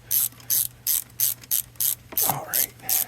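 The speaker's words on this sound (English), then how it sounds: "My ratchet keeps reversing on me." A ratchet clicking in short, evenly spaced bursts while tightening the carburetor bolts on a 2006 Mercury 15 HP outboard, close and crisp, with one brief scrape partway through.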